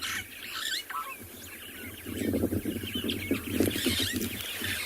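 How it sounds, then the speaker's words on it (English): Starlings, birchills and greater blue-eared, mobbing a snake at sunrise on a safari reserve, a continuous noisy chorus of harsh chattering and squawking calls that swells in the second half, with no talk. "It's very common for birds when they find a snake to mob it, to make a lot of noise."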